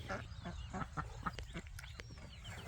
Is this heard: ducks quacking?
yes